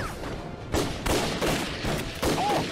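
Loud gunfire rings out in a war film about fighting the Japanese: repeated heavy bursts of shots, roughly one every half second, over a constant roaring din.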